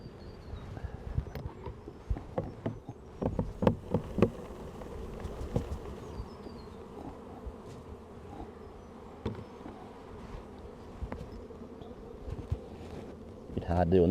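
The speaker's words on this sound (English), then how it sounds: "let's get a third of a cup of bees." Honey bees hum in a soft, steady drone close by as bees are scooped from a hive frame into a cup for a varroa alcohol wash, with scattered knocks and scraping from handling the equipment.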